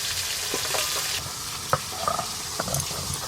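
Fresh pond fish fry in hot oil, a continuous loud sizzle and crackle with occasional sharper pops and spatters close by.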